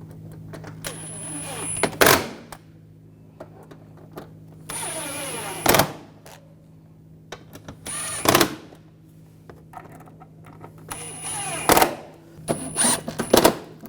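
Bolts on a 2004-2009 Audi A4 radiator being tightened with a hand tool: bursts of ratcheting clicks and metallic clanks around 1, 5.5, 8, 11.5 and 13 seconds, separated by quiet gaps over a low steady hum.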